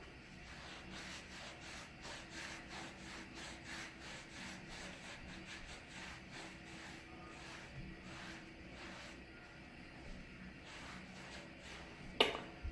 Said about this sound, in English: Taking off my bracelet, wiping off this arm.